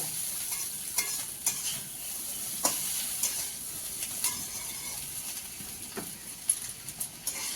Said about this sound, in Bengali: সেদ্ধ করা চাউমিন আর ভেজে রাখা ডিম একসাথে রাখা এটা এবারে মিশিয়ে দেবো